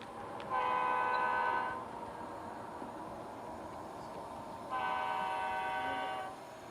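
A model train of Great Northern Big Sky Blue GP locomotives rumbles along steadily while its horn blows twice in long, steady blasts, separated by a few seconds of running noise, as it crosses a model Snohomish River bridge.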